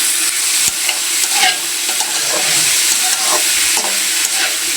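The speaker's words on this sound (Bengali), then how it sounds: "এখন দুইটা দিলাম, একটু ভেজে নেব।" Pumpkin pieces fry in a pan with a steady, close, bright sizzle and hiss, broken by scattered crackles and a few stirring scrapes.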